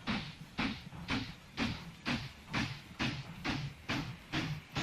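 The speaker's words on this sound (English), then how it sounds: "Here's our coal train coming in." A coal train pulling into a station in the Mashinky railway-building game, with a steady rhythmic clatter of wheels over rail joints, about ten even beats spaced roughly half a second apart, moderately close and with no talk.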